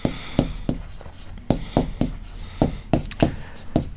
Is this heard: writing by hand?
yes